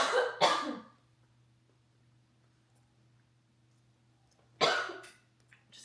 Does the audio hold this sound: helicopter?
no